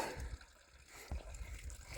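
Water flowing along the Kloof hiking trail near Stamvrug, a faint, steady trickle and gurgle outdoors with soft low rumbles and occasional small splashes, no voices.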